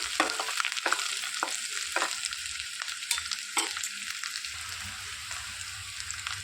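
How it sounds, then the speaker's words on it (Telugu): Ginger garlic paste and curry leaves frying in a pan, a steady bright sizzle running throughout with repeated scraping strokes of a spoon stirring, close and moderately loud, no talking. "కొద్దిగా కరివేపాకు వేసుకోవాలి ఇందులోనికి కొద్దిగా అల్లం వెల్లుల్లి పేస్ట్ వేసుకొని మంచిగా తిప్పుకోవాలి"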